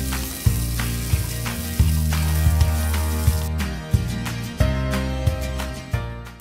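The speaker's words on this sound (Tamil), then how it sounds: "நெல்லிக்காயை போட்டு வதக்கிக்கலாம்" Four finely chopped Indian gooseberries sauté in a pan for a gooseberry chutney, giving a steady sizzle with repeated sharp spatula clicks and scrapes over low, continuous background tones.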